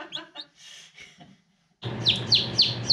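Young chicks about five days old, kept indoors in a shop, chirp in several quick high peeps, with softer scattered peeping and a brief quiet gap before a denser, louder burst of repeated cheeps over a steady background hum.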